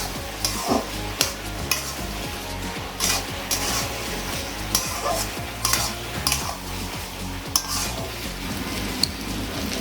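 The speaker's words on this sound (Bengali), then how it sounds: "এবার একটু নেড়ে চেড়ে" A spoon stirs ash gourd ghonto with lentil dumplings as it fries in a pan, giving a steady sizzle broken by regular sharp scrapes and clinks against the metal, with no voices.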